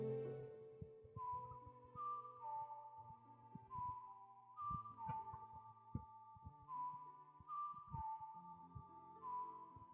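Zelda's Lullaby whistled through the fingers in the Ocarina of Time 3DS remake, a clear, pure whistled melody of sustained and gliding notes over soft game music, steady and close throughout.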